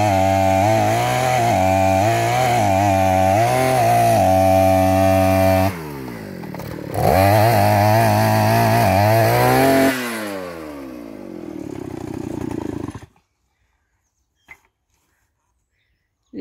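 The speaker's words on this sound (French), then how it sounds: "Il est en train de percer." A power drill bores into stone to carve out a small grotto, its motor whining loudly in long runs with a brief pause midway before it winds down and stops, leaving near silence.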